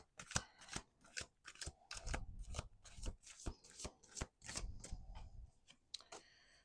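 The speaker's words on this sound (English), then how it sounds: "Let's do 2 more shuffles." Rapid riffling and snapping of playing cards being shuffled, close up, in repeated quick bursts with brief pauses between riffles.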